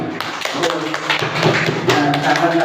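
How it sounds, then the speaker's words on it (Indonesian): Children in a classroom clap their hands together in a steady, tapping rhythm, with voices chanting or calling along throughout. "Tepuk tangan lagi."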